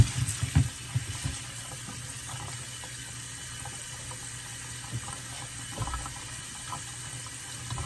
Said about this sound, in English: What I like to do is wash them in warm water.